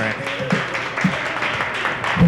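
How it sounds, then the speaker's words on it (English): Audience at a Community Board 12 meeting clapping, a steady patter of applause from a room full of people, with voices mixed in under it. "It was the clapping."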